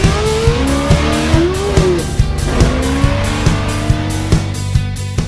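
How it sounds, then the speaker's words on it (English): Race cars at Las Vegas Motor Speedway, loud engines droning with rising and falling pitch as cars pass, with sharp repeated bursts and tire squeal throughout, close and continuous. "We're here at Las Vegas Motor Speedway."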